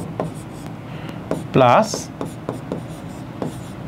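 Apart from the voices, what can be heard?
writing a chemical formula on a board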